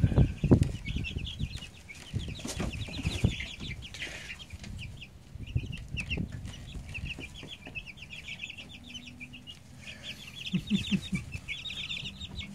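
Black Australorp chicks in a pen, with repeated high peeping chirps throughout and bursts of wing flapping and scuffling among the birds, close and fairly busy.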